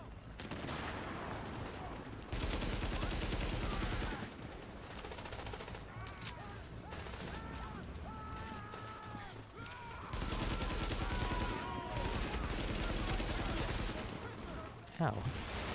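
Sustained automatic gunfire in Tom Clancy's The Division rattles in dense bursts, sometimes pausing then resuming loudly, with a player talking over the shooting.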